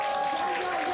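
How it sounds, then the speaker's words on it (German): A crowd of guests at a volunteer appreciation festival claps in a brief, dense burst of applause, loud and close. "Dann dürfen Sie klatschen, trompeln, juden, pfeifen, applaudieren."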